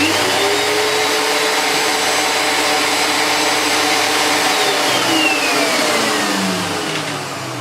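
A brand-new Dirt Devil vacuum cleaner runs steadily and loudly, a continuous mid-pitched motor whine with airy rush that holds level for several seconds before easing slightly at the end, with no talking.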